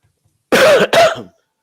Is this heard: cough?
yes